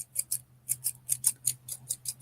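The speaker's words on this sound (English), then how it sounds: "Can y'all tell I need some new scissors? That's terrible. They don't want to cut nothing." Dull scissors snipping through pink yarn while tassels are made for a crochet project, a series of about a dozen crisp, close snips in an uneven rhythm over a low steady hum.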